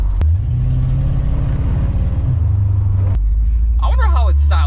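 Loud, gurgling engine note from a Peugeot RCZ with a replaced turbo rises in stepped revs and settles back to a deep rumble while driving; someone talks briefly toward the end.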